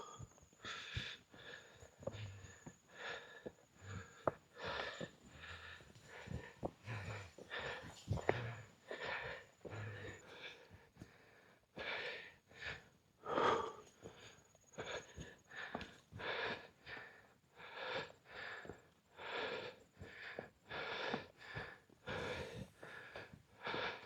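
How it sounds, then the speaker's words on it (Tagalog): A rider pants heavily in quick, rhythmic gasps and wheezy breaths after a short motorcycle trail ride, close to the microphone with faint shuffling in between. "Hingal ako na ito."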